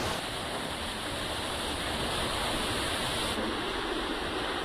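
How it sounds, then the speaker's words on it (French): Artificial waterfall built from stacked old shipping containers, a loud, steady roaring rush of falling water heard up close, unbroken and with no voices. "une cascade faite de vieux containers empilés"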